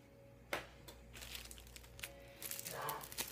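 Paper wrapping peeled off a new pair of reading glasses gives close, soft crinkling and rustling, with a sharper crackle near the start and a fuller rustle toward the end.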